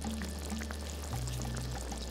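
Seasoning salt pours into a simmering pot of fish head curry with eggplant, a short soft sprinkle close by over a steady low hum.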